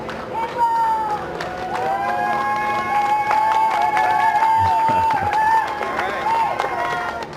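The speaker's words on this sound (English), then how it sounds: "Small crowd, but big cheers." A small crowd cheers and claps for NASA astronauts Bob Behnken and Doug Hurley at a SpaceX launch event, a sustained wash of distant applause and cheering with a loud tonal sound running over it.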